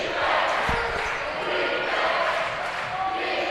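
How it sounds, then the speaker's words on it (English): Home crowd roaring at a high school basketball game, a dense, steady wash of cheering voices filling the gym from start to finish, with a single sharp ball bounce near the beginning. "Crowd back into it for Bethesda Christian"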